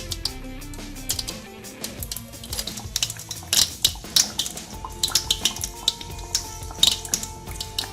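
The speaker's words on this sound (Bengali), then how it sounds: "এখন আমি পর্যাপ্ত পরিমাণ তেল দিয়ে ভেজে নিব তো এখন আমি পুরিগুলো দিয়ে দিব" Daal puri, lentil-stuffed flatbread, frying in plenty of hot oil in a pan: a close, steady patter of crackles, pops and small clinks at moderate level, with no one talking.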